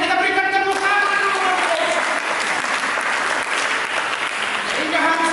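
A church congregation claps loudly and steadily throughout, with a preacher's voice carrying over the applause near the start and again at the end.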